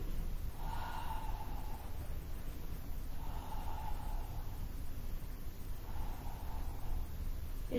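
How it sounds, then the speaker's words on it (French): Slow, steady breaths repeat three times during a Pilates exercise, each soft airy inhale or exhale swelling and fading against a constant background hiss, close and quiet with no talking. "On va venir faire 3 respirations."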